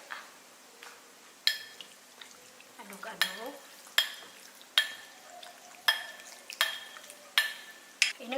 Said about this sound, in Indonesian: Terus aduk.